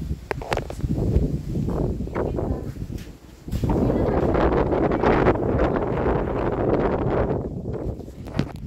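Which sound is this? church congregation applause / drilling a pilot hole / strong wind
strong wind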